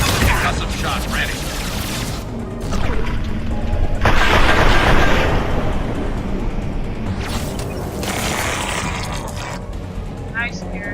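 Video game gunfire in a shooter: loud, dense bursts of shots and booms with mechanical clatter overlap in steady waves, and voices speak over the action.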